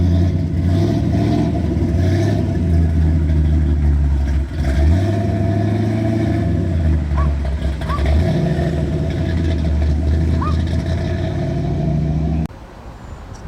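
A 1932 Ford's engine rumbles loudly at a car meet, revving up and down in several swells as the car pulls out, then cuts off abruptly near the end.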